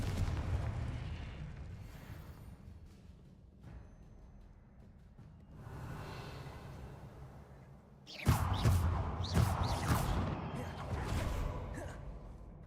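Confringo blasting spells in Hogwarts Legacy go off as bursts in a spell-combat scene, with a heavy rumbling low end first and then a series of loud, sharp explosive cracks arriving in quick succession.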